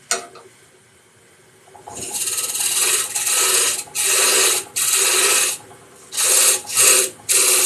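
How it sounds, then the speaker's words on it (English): A skew chisel cuts wood on a lathe while squaring the end of a lidded box: a run of close, loud rasping passes, each lasting a second or so, separated by brief pauses. "I'm going to straighten it up with this skew chisel."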